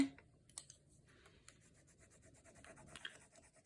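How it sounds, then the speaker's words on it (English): Paper being rubbed to burnish a transfer onto a junk journal page, with a book set underneath as backing: soft, close scratchy rubbing strokes that come in short uneven bursts, quiet and with no talking. "you're going to be rubbing the paper"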